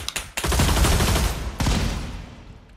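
Loud, close bursts of rapid gunfire in a VR shooting game, with a sharp opening shot, a long sustained volley, then a second burst that trails off.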